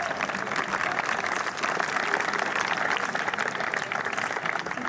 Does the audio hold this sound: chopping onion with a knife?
no